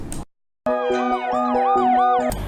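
Ambulance siren sounding loud and close, a steady repeating two-tone wail with sweeping pitch that starts abruptly after a short silence and runs alone for about two seconds.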